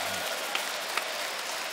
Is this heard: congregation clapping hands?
yes